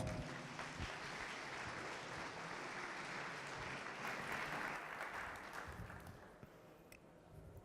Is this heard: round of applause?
yes